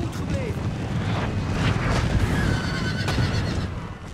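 Cavalry horses whinny in a Napoleonic battle in Napoleon: Total War, a loud neigh standing out over a dense, steady roar of battle noise with distant rumbles and a voice talking.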